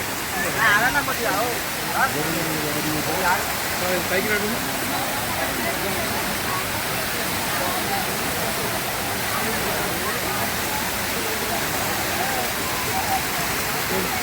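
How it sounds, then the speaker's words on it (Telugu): Constant rushing roar of water pouring down from a wall as an artificial waterfall, loud and steady, with children's voices talking over it in the first few seconds. "వాల్ నుంచి వాటర్ కింద పడటం వల్ల వాటర్ ఫాల్లా కనిపిస్తుంది"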